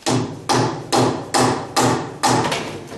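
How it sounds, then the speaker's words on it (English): Six loud, evenly spaced hammer blows knock a sway bar part into place on a 1976 Corvette restomod, each sharp thud ringing and decaying before the next strike. "Gonna bang it."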